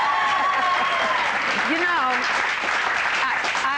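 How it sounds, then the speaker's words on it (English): A TV studio audience on the British show Open House applauds loudly and steadily, with a voice talking over the clapping. "they want to applaud again"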